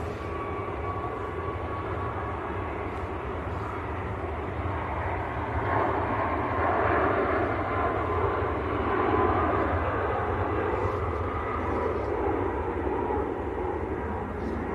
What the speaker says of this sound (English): We've got Ryanair rolling away on the other side as well.